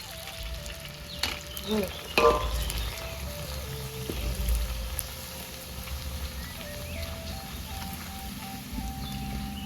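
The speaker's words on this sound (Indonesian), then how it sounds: "Goreng kerupuk kromo hijau lor." Green kromo crackers fry in hot oil, a soft steady sizzle and crackle with a few louder clatters of handling, while a faint tone wavers in the background and a voice talks occasionally.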